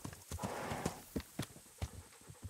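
Horse hooves clip-clop in the medieval video game Kingdom Come: Deliverance, a steady walking rhythm of distinct close thuds with a brief breathy snort-like rush between steps.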